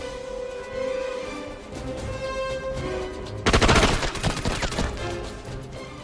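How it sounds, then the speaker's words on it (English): Bursts of gunfire in SOCOM 2, a PS2 tactical shooter, start suddenly after a quieter stretch: loud, close, fast automatic shots that keep rattling for a couple of seconds, with no voices. "The situation was compromised, so I opened fire."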